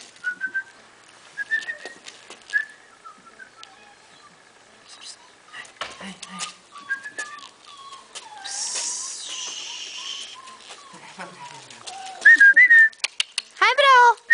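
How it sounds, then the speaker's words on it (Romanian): Someone whistles repeatedly outdoors to call an animal, with varied sliding whistles mixed with bits of nearby talk, ending in a run of loud, sharp whistle blasts. "Dacă o fluier vine, s-o fluieri"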